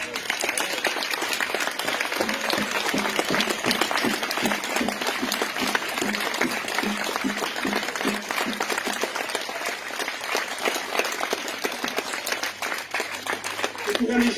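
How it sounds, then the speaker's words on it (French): A large audience at a gathering in the Pyrenees claps steadily and densely, with loud sustained applause throughout and voices mixed in. "j'aimerais qu'on s'applaudisse tous d'être encore debout et d'être fiers"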